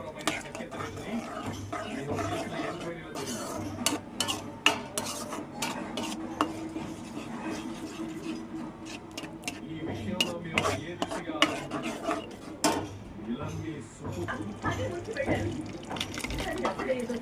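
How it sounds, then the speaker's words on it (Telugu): Cashew paste goes into a simmering gravy and a spoon scrapes and stirs against the pan, soft clinks and wet stirring repeating under a voice talking throughout. "ఇప్పుడు కాజు పేస్ట్ వేసి కాసేపు ఉడికినిద్దాం"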